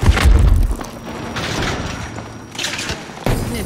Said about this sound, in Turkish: Şimdi bir bomba daha geldi.